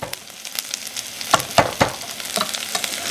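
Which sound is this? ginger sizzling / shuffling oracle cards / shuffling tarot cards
ginger sizzling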